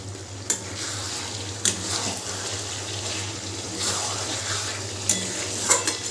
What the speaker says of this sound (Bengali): 5 মিনিট পর আমি ঢাকনাটা খুলে মাংসটা একটু নেড়ে দেব।